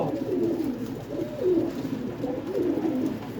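Several pigeons coo in repeated low, rolling calls, fairly close and steady, with a soft background hum.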